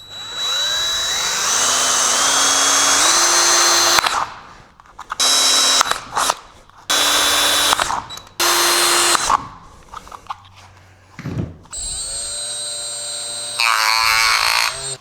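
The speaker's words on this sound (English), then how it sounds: "I'm just gonna drill the holes" A power drill whirs loudly in repeated bursts, revving up and cutting off between short pauses, close by with no talking.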